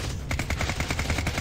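Rapid SMG bursts in the game Deadtime Defenders crackle in a fast, even rhythm of about a dozen sharp shots, loud and close with no talk over them.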